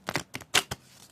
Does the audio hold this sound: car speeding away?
no